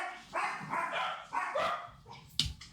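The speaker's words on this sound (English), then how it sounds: "I think there's a dog" Dog barking in a series of short, fairly close yips and barks in quick succession, with a sharper final bark at the end and no talk over it.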